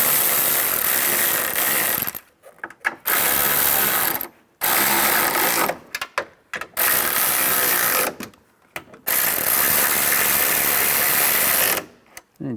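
Ratchet tightening side mirror mounting nuts on a 2007-2013 Chevrolet Silverado, rapid clicking pawl bursts close up in several spaced runs separated by brief silences.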